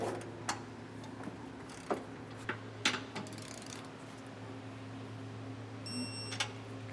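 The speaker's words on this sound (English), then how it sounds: "Now we can come back with our torque wrench and torque our hardware to spec." A torque wrench clicks a handful of times while trailer hitch hardware on a 2025 Mazda is tightened, sharp isolated clicks over a low steady hum, close and without talk.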